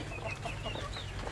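Red Star hens in a backyard coop giving soft, scattered clucks and murmurs, fairly quiet and close, with no voices.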